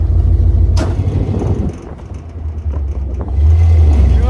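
A pickup truck driving after a squeaking drive belt was replaced, its engine a steady low rumble with a brief bump near the start and louder acceleration toward the end, no talk.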